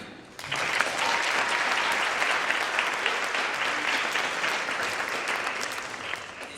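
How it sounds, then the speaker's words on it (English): A roomful of people applauds a board member being introduced at a talent and tributes event: dense, steady clapping starts abruptly and holds loud and even, easing only slightly toward the end. "Let's have a warm round of applause for board member Lee."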